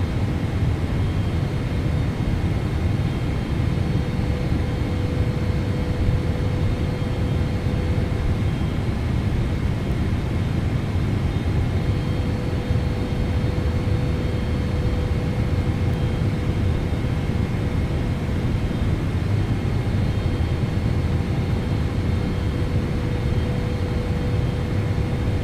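Steady jet engine roar of a PMDG 777 airliner on approach to land in Microsoft Flight Simulator, a constant broadband hum with faint tonal whine, loud and unchanging throughout.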